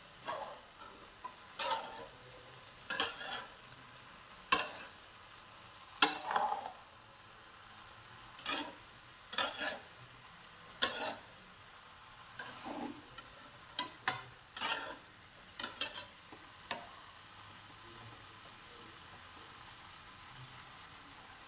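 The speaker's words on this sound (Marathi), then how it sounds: "असं मिक्स करून घ्यायचं छान" Spring onion greens with masala are stirred in a pan for a brinjal bharit. Irregular scraping and tossing strokes come one after another over a faint background sizzle, with no talking.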